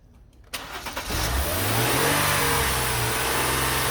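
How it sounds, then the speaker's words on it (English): A Mercedes ML350 engine revs up and holds at a steady raised speed, loud and close, kicking in after a brief quiet start with a few rising pulses. "All right, so we're gonna keep it at a little higher RPM."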